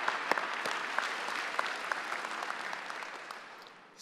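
Steady audience applause fills a commencement ceremony at Carnegie Hall, a dense continuous patter of many hands with a few sharper claps standing out, fading slightly toward the end.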